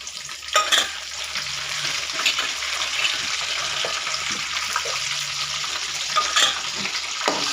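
Garlic frying in oil for lemon coconut pulihora, a soft steady sizzle with a few light clinks of a spoon against the pan.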